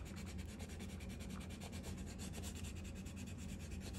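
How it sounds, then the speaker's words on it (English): A scraper presses cut vinyl pieces onto a soap bottle, making a faint, continuous close rubbing scrape with no talk. "I'm gonna use my scraper as well."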